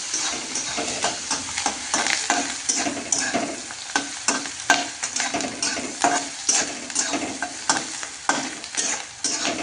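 Onion frying and being stirred in a pan for a vegetable dish, a steady close sizzle broken by frequent rhythmic scraping strokes of a spoon throughout, with no voices.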